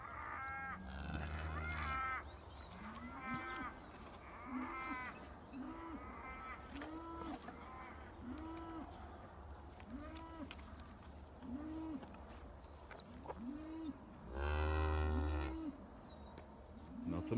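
An Angus mother cow moos repeatedly in a regular series of low calls about a second apart, fairly near, with a couple of louder, fuller bellows at the start and end.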